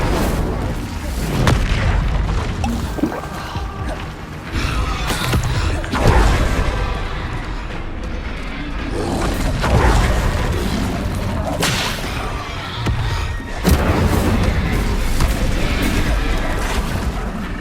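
Bombarda explosion spells go off in the Hogwarts Legacy video game, with repeated heavy booming blasts over a loud, dense, continuous mix of battle sound.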